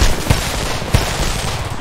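Gunfire in the shooter Homefront, with two heavy shots thumping about half a second apart over a dense, steady wash of battle noise.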